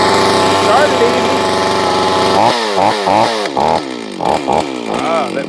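A Craftsman (Solo 651sp) 51cc chainsaw runs loud and close, a steady idle-like drone that then breaks into repeated revving bursts, the engine pitch rising and falling several times.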